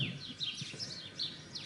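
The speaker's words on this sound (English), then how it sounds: "And some very vocal birds." Birds chirp outdoors, quick faint tweets and short high calls overlapping in a thin, steady chorus against soft background noise.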